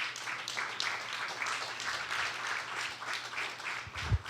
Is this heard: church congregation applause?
yes